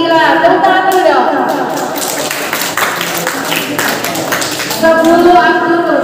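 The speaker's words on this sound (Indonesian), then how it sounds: "Tepuk tangan dulu dong" High school students clap together in a large classroom guidance session at SMAN 2 KS Cilegon. The clapping is dense and continuous at mid-distance, with voices audible at the beginning and end.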